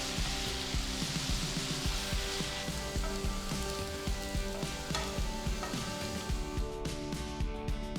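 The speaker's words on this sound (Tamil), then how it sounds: "இந்த கிழங்கை எண்ணெயில் சேர்த்து எல்லா பக்கமும் பொன்னிறமாக வர வரைக்கும் நல்லா ஃப்ரை பண்ணி எடுத்துக்கலாம்." Potato cubes fry in oil in a pan for a potato and pea curry, a steady crackling sizzle with occasional clinks and scrapes of stirring, even and close throughout with no voices.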